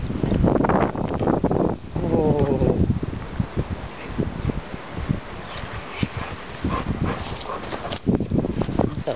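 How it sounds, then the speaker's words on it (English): Strong outdoor wind buffets the microphone in loud rumbling gusts through most of the stretch, with a dog whimpering and brief voices breaking in between. "This wind is crazy."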